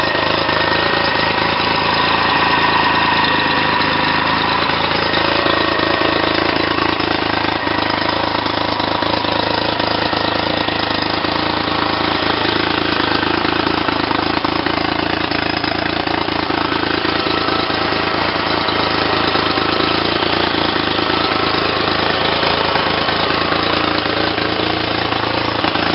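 A 1999 Honda BF40 outboard motor on a 12-foot Rendova yacht tender runs steadily in reverse, a loud continuous engine drone with a knocking, rattling texture held throughout, no voices.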